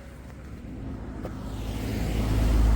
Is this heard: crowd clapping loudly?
no